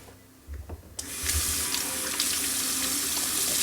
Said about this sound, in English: you need to wash your hands.